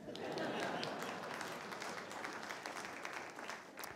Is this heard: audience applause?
yes